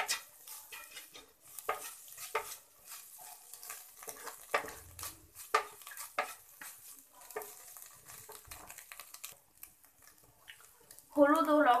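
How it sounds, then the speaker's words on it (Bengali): Vegetables being stirred with turmeric and salt in a pan, giving a steady run of soft scraping and light sizzling strokes, close and moderately loud, with a brief louder clatter near the end. "হলুদ ও লবণ দেওয়ার পর আমি সবজিগুলোকে ভালোভাবে নেড়ে নিয়েছি।"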